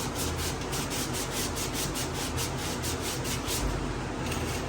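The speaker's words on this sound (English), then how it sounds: "Now I'll keep sanding" Steady back-and-forth sanding on a 1985 Jeep CJ7 metal body panel, a continuous rhythmic abrasive rasp, close and fairly loud with no voices.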